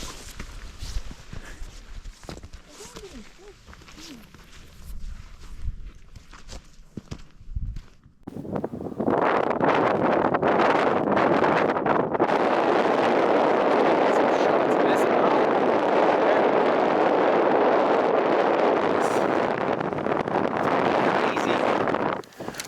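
Strong, steady wind roars loudly and continuously across the microphone on a snowy mountain hike near the summit in northern British Columbia, after a quieter stretch with scattered sounds at the start.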